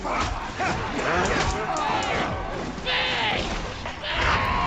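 Yipping dog barks from a Warhammer video game, heard amid dense game action and noise while players talk over it throughout.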